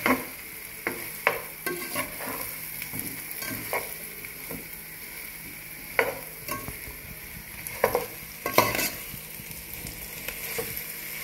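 Yam curry is stirred with salt and chili in a pan, giving a soft continuous sizzle. Repeated scraping and clinking strokes rise above it in an uneven rhythm, with no talk.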